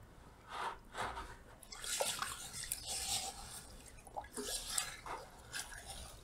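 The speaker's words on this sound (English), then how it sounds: "Now we are going to dip this in this that is aquarium water and just give it a good rinse." Canister filter media dipped and rinsed in a container of aquarium water, with quiet sloshing, dripping and splashing in irregular bursts, close and fairly soft, with no talking.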